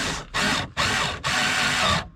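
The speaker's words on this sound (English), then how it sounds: "And then I just started drilling holes." Three bursts of a power drill boring screw holes while installing a rear diffuser on an MK6 GLI car, each whir separated by short pauses, loud and close with no talk.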